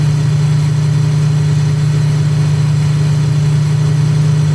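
Dornier Do 335 Pfeil piston engine in a flight simulator drones at a steady low pitch after the propeller pitch is dropped, a loud, even hum with no talk over it.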